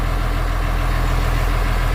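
A tractor engine idles steadily up close, a constant low rumble with no change in pitch and no voices over it.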